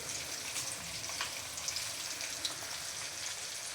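Onion and capsicum sauté in a hot pan for a potato chilli dish, giving a steady, even sizzle with a soft crackle throughout. It sounds close and moderately quiet, with no talking.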